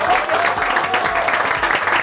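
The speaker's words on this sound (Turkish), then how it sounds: "burada olmayan ekibimin devamına da kocaman bir alkış istiyorum" Studio audience on a Turkish TV cooking show breaking into dense, sustained applause, close and loud throughout the short stretch.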